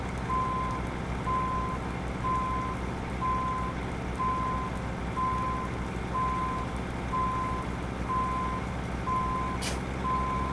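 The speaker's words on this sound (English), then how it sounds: "It's got the modified sound for the backup beep as well." Reversing beeps from a truck in American Truck Simulator, a steady run of about ten evenly spaced beeps over a constant engine hum, with no talk.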